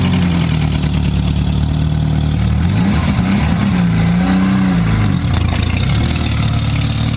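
The engine of an abandoned Mk2 Volkswagen Scirocco with an imperfect throttle cable runs loud and close, a steady rough drone broken by a few rising and falling revs in the middle.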